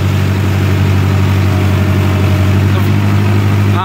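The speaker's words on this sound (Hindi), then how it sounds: "आवाज सुन सकते हो तुम ट्रैक्टर की।" A tractor engine with a super seeder attached runs steadily at about 1600 RPM, a loud, constant low-pitched drone close by with no change in speed.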